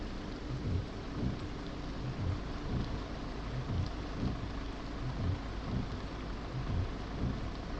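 Continuous rain hisses at a steady level on a truck, joined by faint, regular low thumps repeating every half second or so.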